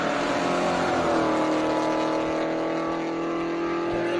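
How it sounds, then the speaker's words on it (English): A Rover V8 powered Hillman Avenger rally car on a gravel stage at Rally Otago, its engine roaring loud and close with a sustained, throaty note as it holds the throttle. "Rover V8 powered Hillman Avenger."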